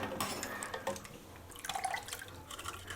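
Carrots lifted out of a bowl of cold, icy water drip and splash, with scattered wet drops and small sloshes, quiet and close.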